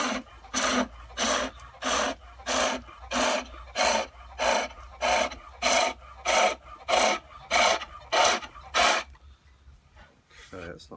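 A wooden garden dibber being turned on a foot-powered pole lathe, each treadle stroke giving a rasping cut of the chisel that peels thin shavings, about a dozen evenly spaced strokes close by, then quiet. No one talks over the cutting.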